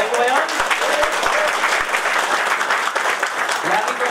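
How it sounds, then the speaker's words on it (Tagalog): An audience breaks into power clapping at a live event, dense and loud sustained applause throughout with voices cheering over it. "So, the power clapping."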